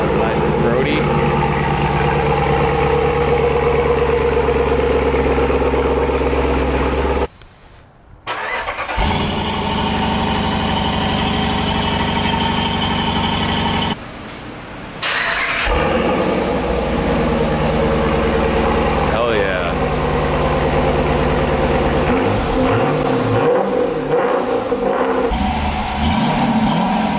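A 2020 Dodge Durango R/T with a Borla S-Type cat-back exhaust idling loudly and close with a deep, throaty rumble, cutting out twice briefly before starting back up.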